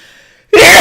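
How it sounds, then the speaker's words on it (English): A person sneezes close to the microphone while commentating a rapid chess game: a quiet intake of breath, then one sudden, loud, explosive burst. "I'm gonna sneeze."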